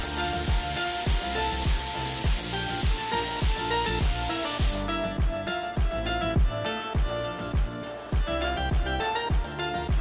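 Medium-sized chopped tomatoes go into a hot pan for paneer butter masala, giving a loud, steady hiss that cuts off halfway, leaving a rhythmic tapping background.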